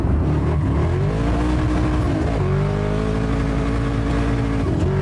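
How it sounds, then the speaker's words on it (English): A car revs hard and accelerates, its engine note climbing and holding in loud, continuous harmonic sweeps that dominate throughout. "The dude's driving the piss out of his car"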